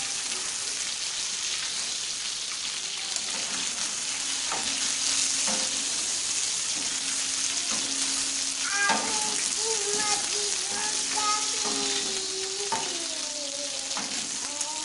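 Fish frying on a tawa griddle, with a steady close sizzle and spatter throughout, a few scraping or turning touches, and faint voices in the background.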